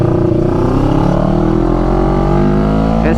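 Heard from aboard a CFMoto NK400 motorcycle, road traffic and engine noise make a loud, continuous rumble with shifting tones, close and steady throughout, with no talking.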